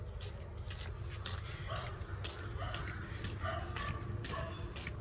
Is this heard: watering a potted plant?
no